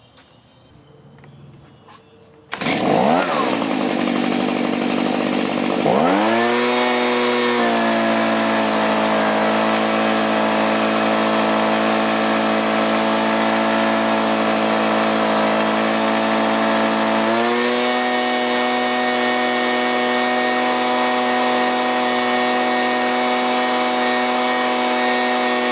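A STIHL chainsaw fires up and idles after a carburetor adjustment, settling into a loud, steady, even engine drone that holds close and unbroken, with a brief shift in pitch partway through and no talk.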